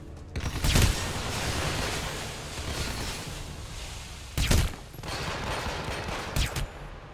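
Machine gun fire in Hitman Absolution, a steady stream of rapid shots with a few louder bursts standing out, heard close and loud with no talk.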